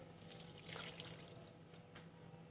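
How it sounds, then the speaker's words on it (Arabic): A cup of warm water poured into a bowl for kneading dough: a brief, soft splashing pour peaking near the start, then fading to gentle trickles and drips, quiet and close. "هضيف في الأول كده كوباية مية دافية"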